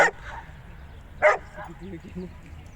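A German Shepherd gives two sharp, close barks about a second apart at a dog park, followed by softer whimpering yips and a low-level background.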